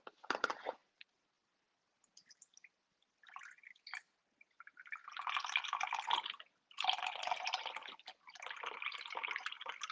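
Unsalted beef broth poured from a carton while making pepper steak. After a near-silent start, splashy liquid pouring comes in a few longer bursts, moderately close.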